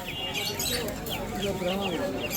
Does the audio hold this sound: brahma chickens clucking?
yes